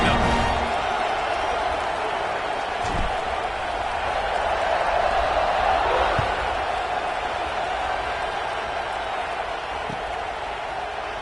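Football stadium crowd before kickoff, a broad continuous roar of cheering and noise that holds steady throughout, with a few thuds and faint commentary underneath.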